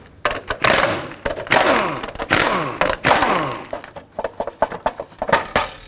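A power tool spins off the wheel cap nuts of a 2007-2009 Saturn Aura with a 19 mm socket. It gives loud, repeated whirring bursts with falling pitch and short pauses between them.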